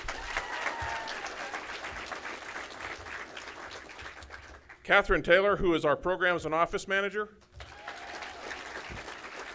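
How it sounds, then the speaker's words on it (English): An audience at a foundation donor recognition and awards presentation applauds steadily. The clapping pauses briefly while someone speaks, then resumes at a similar moderate level. "Let's give her a big round of applause"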